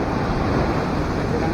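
Typhoon Enteng waves crash on the shore in a brief, steady, loud roar of surf mixed with wind buffeting.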